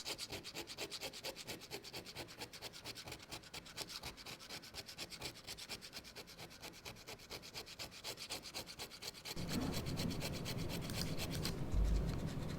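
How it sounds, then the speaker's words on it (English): Steady close rubbing and scraping as old adhesive residue is worked off the surface of a painting, continuous and even, growing louder and coarser toward the end. "The removal of this adhesive is tedious and time-consuming, but there's no other faster way."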